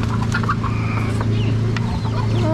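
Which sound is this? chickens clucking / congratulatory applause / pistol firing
chickens clucking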